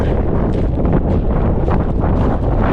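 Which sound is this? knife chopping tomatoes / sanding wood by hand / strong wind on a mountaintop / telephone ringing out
strong wind on a mountaintop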